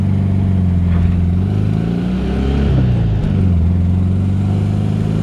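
The rebuilt air-cooled engine of a 1972 Volkswagen SuperBeetle Convertible runs close by, a loud, steady idle that rises briefly in a short rev near the middle before settling back.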